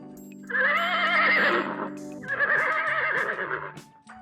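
A horse whinnies in two long, quavering neighs, near and loud, the second following a brief break after the first.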